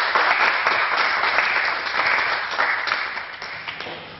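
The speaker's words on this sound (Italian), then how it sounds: "Accogliamo con un applauso." Steady applause from an audience, a dense wash of many hands clapping that stays even and slowly eases off.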